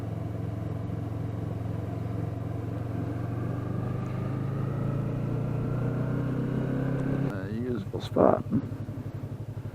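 A Honda CBR650F, CBR500R or Yamaha R3 sport motorcycle runs along while ridden, with its engine holding a steady hum that climbs in pitch, then a few rising revs near the end, under a voice.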